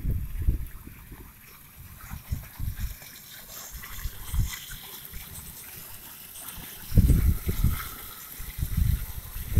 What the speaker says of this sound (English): little waterfall here,